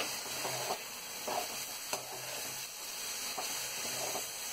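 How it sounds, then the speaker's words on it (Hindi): Carrot halwa with crushed cardamom and raisins is stirred in a sizzling pan, a constant frying hiss with soft rhythmic scrapes of the spoon recurring every second or so. "और उसको आप चलाएंगे।"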